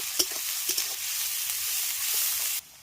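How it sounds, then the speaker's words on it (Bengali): Chopped onion sizzles steadily in hot oil, a dense close hiss with a few spatula stirs and scrapes early on, cutting off abruptly near the end. "তেল গরম হয়ে গেছে এবার তেলের মধ্যে আগে থেকে কুচিয়ে রাখা পেঁয়াজটা দিয়ে দিচ্ছি পেঁয়াজটাকে প্রথমে ভালো করে ভেজে নেব"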